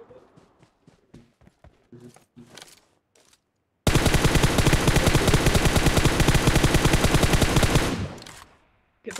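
Sustained rapid automatic gunfire in the PUBG Mobile video game, a loud, close burst of rhythmic shots lasting about four seconds and then stopping abruptly, preceded by scattered softer clicks and footsteps.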